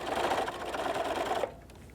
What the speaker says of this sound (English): I'm going to continue to sew till I get a little bit closer